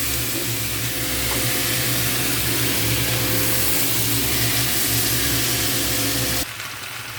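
Kohlrabi pieces sizzle loudly in hot oil tempered with cumin, bay leaf and dried chilli: a dense, close, roaring hiss with a low hum beneath it that holds steady, then drops sharply near the end.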